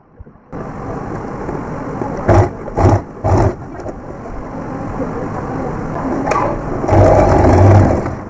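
A sewing machine stitches the shoulder strap of a baby girl's ruffle crop top in a steady, loud mechanical whir that runs almost continuously, with a few heavier thumps partway through.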